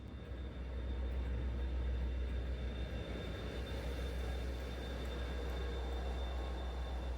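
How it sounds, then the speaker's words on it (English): Inside the Night Riviera sleeper train, Mark III coaches hauled by a Class 57 locomotive, a steady low rumble and rolling roar of wheels on track with a faint high whine, continuous throughout. "The Night Riviera is made up of Mark III coaches hauled by a Class 57 locomotive."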